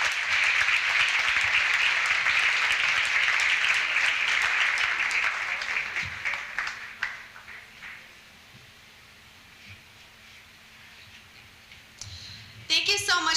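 An audience at a Roberto and Vera Clemente life commemoration event applauds loudly for several seconds, then the clapping thins out and fades to a quiet room with scattered claps near the end.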